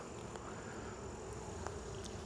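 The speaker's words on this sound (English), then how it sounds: "Oh, still lots of bees in here." Honey bees swarm over a frame pulled from an opened hive, making a faint, even buzzing drone that holds steady throughout with no voices.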